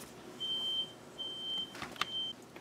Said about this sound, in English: My smoke detector went off.